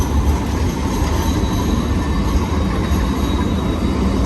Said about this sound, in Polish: Proszę bardzo, australijski tramwaj.